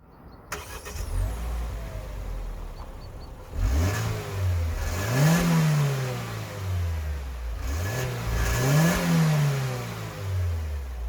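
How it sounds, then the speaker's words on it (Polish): A small naturally aspirated 1.5-litre four-cylinder petrol engine in a 2024 MG ZS is heard from inside as it idles and then rises and falls in pitch through two surging accelerations, moderately loud and steady. "normalna czterocylindrowa, wolno ssąca benzynka, mała, dość ekonomiczna"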